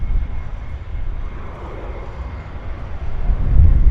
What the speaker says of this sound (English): this is the new Air North 737-800. It is the first day of revenue service. So it is taxiing out